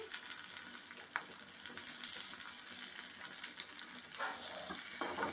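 Onion sizzles in hot oil with whole cumin and whole garlic cloves, a soft continuous frying hiss with occasional stirring clinks, fairly faint and close, with no talking.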